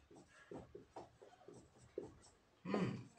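A pen scratches on paper in short rhythmic strokes while writing out a chemistry answer, faint and close, under a teacher's quiet speech, ending with a louder scribble.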